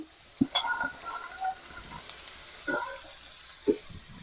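Matki sprouts fry in a pan with turmeric, giving a soft steady sizzle broken by a few louder scrapes and stirring knocks, with no voices.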